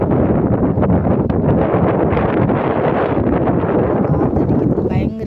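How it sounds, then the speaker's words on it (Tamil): Wind blowing across a sunny garden plot sown with sesame, buffeting the microphone in a loud, steady, broadband roar that lasts throughout with no letup. "இந்த இடத்துல நல்ல காற்றடிக்குது சில்லுன்னு"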